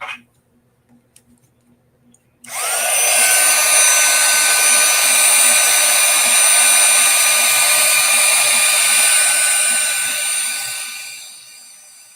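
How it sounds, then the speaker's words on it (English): A heat gun blasts hot air onto media paste, switching on abruptly after a few quiet clicks and then holding a loud, steady whooshing whine that tapers off at the end. "I'm going to get my heat gun."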